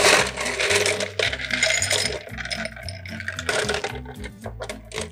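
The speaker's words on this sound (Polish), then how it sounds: "Naszą delikatnie skłóconą mieszankę będziemy przelewali do wysokiej szklanki." A shaken Air Mail cocktail of rum, honey and prosecco mixture is poured into a tall glass filled with ice cubes, giving bright clinks and splashes over steady background music.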